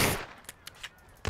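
Gunfire in the video game Mafia: a burst of noise followed by several sharp, separated shots, fairly faint and echoing, with no talk.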